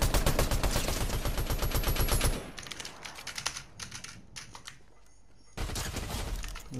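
Rapid pistol gunfire in the video game Fortnite, fast regular bursts of sharp shots, loud and dense at first, then sparser scattered shots, then another loud volley at the end.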